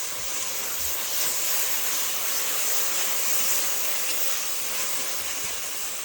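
Onions caramelizing quickly in a hot pot, a loud, continuous bright hiss and sizzle that holds steady throughout with no voices.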